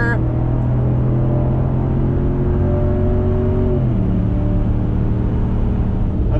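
A Dodge Challenger SRT with a 6.1 engine idles at a drag strip, a steady close low rumble whose pitch drops slightly partway through, with no break in the sound.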